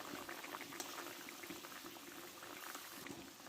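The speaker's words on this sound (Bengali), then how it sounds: "তরকারিটা ফুটে উঠেছে" Egg and potato curry (dimer jhol) bubbling at a steady boil in a pot, a dense, continuous wet burble with no voices.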